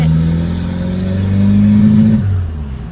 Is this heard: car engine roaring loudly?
yes